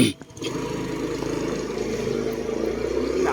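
A diesel engine in a homemade vehicle running steadily, a close, even mid-pitched chug that holds constant after a brief knock at the start, with no talking.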